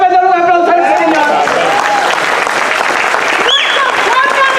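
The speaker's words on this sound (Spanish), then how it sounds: "¿Cuánto le puede dar un aplauso al Señor?" A church congregation at a Spanish-language service breaks into loud, sustained applause, dense clapping under voices and shouts rising from the crowd, with sung or called-out tones sliding over it.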